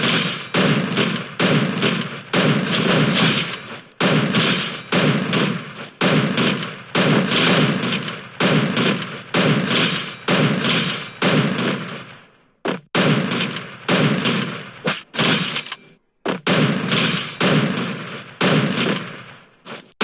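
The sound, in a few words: M590 gun firing and fast reloading in a video game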